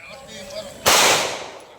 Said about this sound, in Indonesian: Tembakan peringatan dari polisi di lokasi sabung ayam seketika membuat aktivitas sabung ayam di atas gunung Desa Mandale